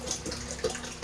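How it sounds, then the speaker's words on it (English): Water running from a tap into a jug for baby chicks, a steady soft gush with small splashy bursts, alone with no talking. "So I usually fill the water jug and put the"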